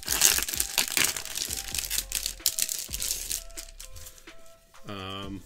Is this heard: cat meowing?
no